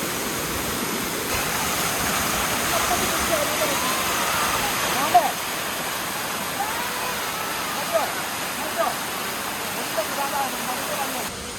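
A waterfall in Wayanad roars in a steady, dense rush that fills the whole clip, with a few faint voices and bird calls barely audible beneath it.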